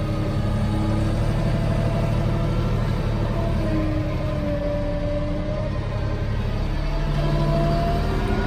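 A compact tractor engine drones steadily while driving on a sawmill house-build site, a low continuous rumble heard close up with no talk over it.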